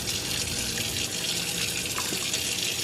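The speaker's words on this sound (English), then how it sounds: "I just like to put a little bit of water and just rinse it like this" Quinoa being rinsed under a running kitchen sink tap, a steady splashing stream of water with small sloshing shifts as the grains are swirled, close and continuous with no talk.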